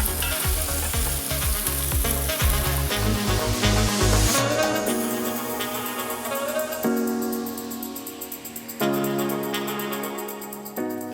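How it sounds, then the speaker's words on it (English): Chicken pieces frying in a hot pan, browned after about ten minutes, give a steady close sizzle with stirring and utensil scrapes, joined by some music partway through, with no talking. "The chicken has been frying for, I would say, 10 minutes."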